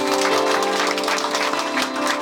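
Church congregation clapping together in a dense, brief burst of applause inside the worship hall, steady throughout with no talk over it.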